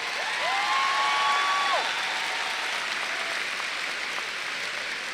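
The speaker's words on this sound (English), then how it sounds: "Let's give our top 10 graduates a huge round of applause." A graduation crowd at a high school ceremony gives a big round of applause for the top graduates, dense continuous clapping filling the hall, with a brief whistle-like tone early on.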